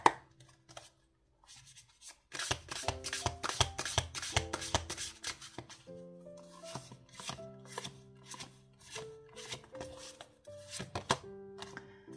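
Oracle cards are shuffled by hand in quick rustling bursts and snaps, close and quiet, with soft tonal notes sounding underneath.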